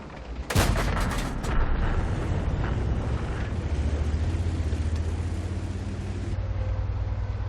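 A single loud tank cannon blast in World of Tanks, a sharp booming report followed by a long rumbling echo and a steady low engine drone.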